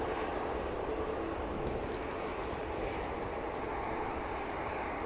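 A steady, broad roar from a Jet2 Boeing 737 at Manchester Airport on an afternoon, distant and constant for the whole stretch, with no clear voices.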